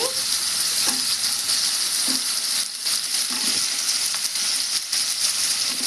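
Onion pieces fry in oil for a brinjal chutney, giving a bright, continuous hissing sizzle close up, broken by a few soft stirring taps and scrapes; no one talks.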